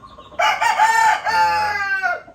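A gamefowl rooster on a game farm crows once, loud and close, a long drawn-out cock-a-doodle-doo call with no talking around it.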